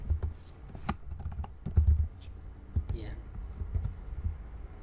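Quiet, irregular clicks of typing code on a computer keyboard, in short bursts of keystrokes with pauses between them and a soft voice murmuring faintly underneath.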